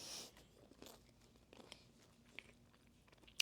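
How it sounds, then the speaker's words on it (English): Faint crisp crunches of teeth biting into a pizza crust, a few soft chewing crackles spread out over quiet background, ending with one sharper crunch. "Let's get to this crust though. Oh, y'all hear that? That crunch."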